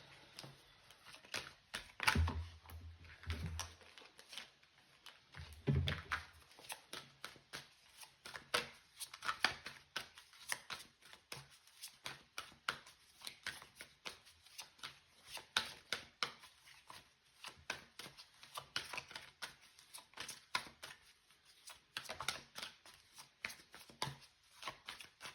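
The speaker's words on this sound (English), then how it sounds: "I'm just going to pull some more cards here." Tarot cards are shuffled and drawn close by, with faint papery flicks and soft riffles in irregular bursts and a couple of dull thumps near the start, all quiet with no talk.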